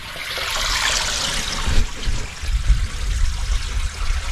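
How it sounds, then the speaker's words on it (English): Water rushes down through woods into a hole and drain pipe, a loud steady gurgling flow with deeper splashing surges toward the end. "there's a lot of water coming down through the woods, down into this hole"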